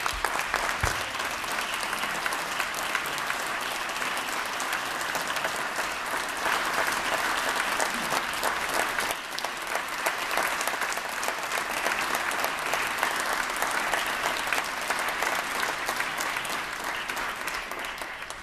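A state assembly audience in a legislative chamber claps steadily for the whole stretch, a dense and even wash of applause heard from within the room.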